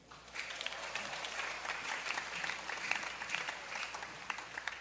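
A large crowd at an El Shaddai religious gathering claps loudly, a continuous dense wash of applause heard from a distance.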